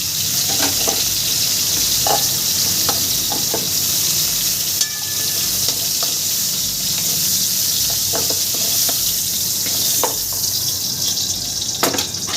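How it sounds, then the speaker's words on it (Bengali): Sajne data (drumstick vegetable) frying in oil in a pan, a steady close sizzle that holds throughout, with faint stirring knocks scattered over it. "সজনে ডাটাটা আমার ভাজা হয়ে গেছে আমি এবার তুলে নেবো"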